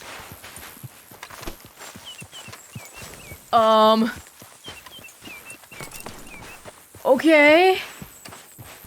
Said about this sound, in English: And the horse won't stop.